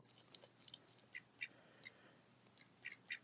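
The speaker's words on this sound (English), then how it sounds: "Here comes the other ducks, the three troublemakers." Ducks, a small group of three, give quick soft quacks and chatter in scattered short bursts, fairly faint and distant, with no voices present.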